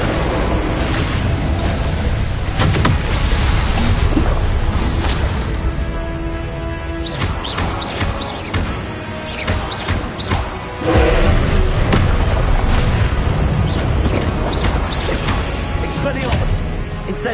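Incendio fire spell blasts in Hogwarts Legacy, heavy booming whooshes and crashing impacts repeating through a loud, busy combat mix, with talking mixed in.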